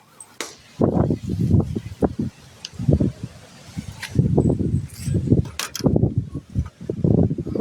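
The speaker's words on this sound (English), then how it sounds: "really windy out here" Gusty wind buffets the microphone in uneven low rumbling bursts, loud and close, with rustling in between and no clear talking.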